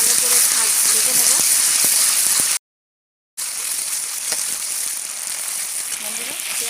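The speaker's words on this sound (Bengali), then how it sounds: "পেঁয়াজ রসুন আদা আমি একটু ভেজে নিয়েছি" Onion, garlic and ginger paste fries in hot oil in a village kitchen, a dense continuous sizzle close by, broken by one brief silent gap.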